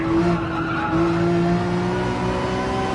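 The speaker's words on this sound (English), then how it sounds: "I've caused a crash behind because I went in slowly, and I think the two cars braked and one might have bounced off the other" Race cars in a racing game at Road Atlanta braking hard into a crash, with loud sustained tire squeal and skidding over steady engine drone for three seconds.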